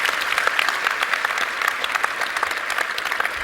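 Steady audience applause from a crowd fills the whole stretch, dense and even with many overlapping hand claps, moderately loud and without any talk over it.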